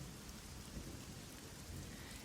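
Steady rain and a thunderstorm for a stormy night, a dense, continuous hiss of rainfall with a low rumbling undertone, even and unbroken throughout.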